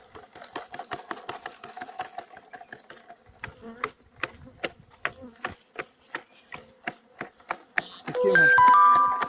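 Honeybees shaken from a frame into a small ventilated bottle, buzzing under a run of sharp taps and knocks, ending in a loud, dense burst of buzzing close up.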